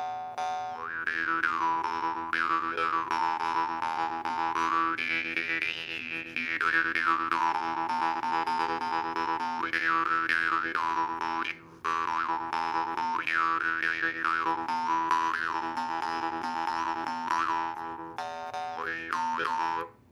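A Strelnikov jaw harp (vargan) tuned to E2 twangs with a steady buzzing drone, its overtones sweeping up and down in rhythmic vowel-like waves, close and clear with no speech.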